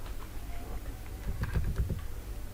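Short burst of typing on a computer keyboard, a handful of quick, light key taps clustered together at close range over a quiet background hum, with no talking.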